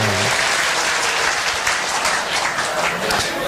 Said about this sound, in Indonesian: Tepuk tangan dengan